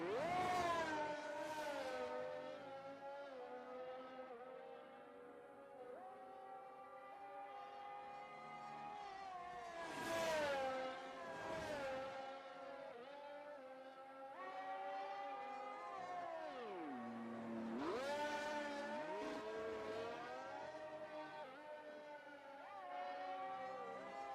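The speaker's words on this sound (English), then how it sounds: "there's a couple cars leaving the pit lane just to get their final laps in" Race cars in a racing video game pulling out of the pit lane at the Qatar GP, a faint whining engine drone that rises and falls in pitch across several passes.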